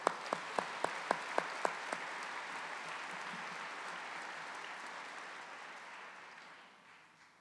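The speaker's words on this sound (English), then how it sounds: "One more big round of applause." A few sharp, evenly spaced claps ring out at first, then a large evening audience breaks into a broad, sustained round of applause that holds steady and fades away toward the end, fairly quiet overall.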